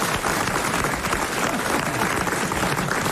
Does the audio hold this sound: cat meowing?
no